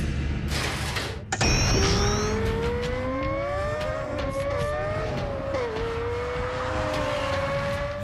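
A Lexus LFA Nürburgring package sports car with a retuned 571-horsepower engine gives a sharp burst, then a loud sustained high-pitched engine whine that rises and shifts in pitch as it revs, heard alone.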